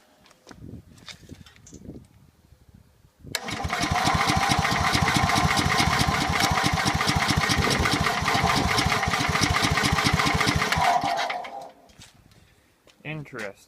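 Small engine in plow day prep, running after choking with a carburetor needing cleaning: it catches abruptly and runs steadily with a rapid, even chug for about eight seconds before cutting off, with talk before and after.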